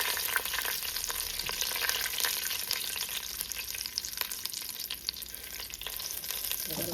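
Fried chili oil and olive oil frying in a pan while spaghetti and saltfish are being made. The hiss is steady and close, broken by crackling pops and a light stir near the end, with no talking.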